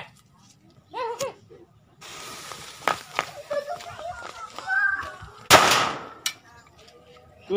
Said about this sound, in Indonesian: Kita nyalain pertama mercon tempenya terlebih dahulu.